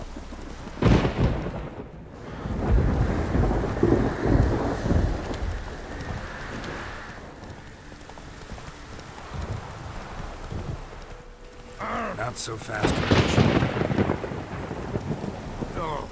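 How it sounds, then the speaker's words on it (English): Rain falling with rolling thunder in The Witcher 3 game world, a steady wash of rainfall broken by loud thunder rumbles near the start and again toward the end, with a brief spoken line over it. "Oh, it's drizzly."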